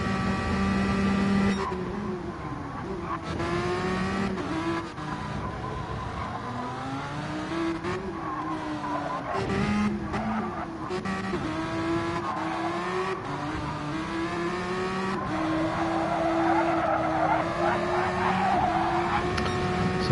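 Dodge Tomahawk race cars in a racing video game, lapping at Interlagos: sustained engine drones rising and falling in pitch as gears shift, with brief tire squeals and no talk.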